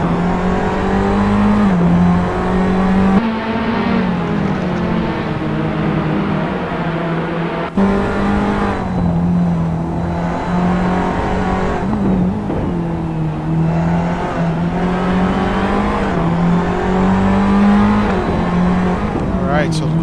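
Formula Abarth race cars screaming around the Monaco street circuit in a racing game, a loud continuous high-revving engine with shifting pitch, gear changes and brief drops, under running commentary.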